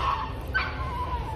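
A puppy gives soft yips and a thin whimpering whine, with one brief sharper bark in the middle, close by and fairly quiet against a low background hum in an airport.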